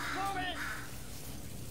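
In the game Portal 2, an angry bird gives a couple of short, raspy caws over faint background noise, then the scene settles into a low ambient hum.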